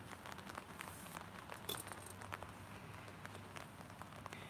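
Rain patters steadily onto a vegetable garden with kale, a dense close crackle of drops with scattered sharper hits, heard alone without speech.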